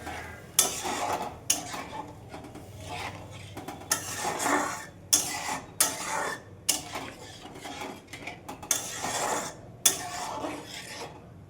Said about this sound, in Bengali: ঝোলটা একটু নাড়া দিয়ে দিলাম